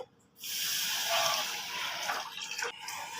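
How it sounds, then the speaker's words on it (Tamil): Water poured from above onto oats in a pan for Tamil-style evening oats porridge, a steady close splashing pour lasting about three seconds, alone with no talk. "தேவையான அளவு தண்ணி ஊற்றி நல்லா கலக்கிக்கலாம்."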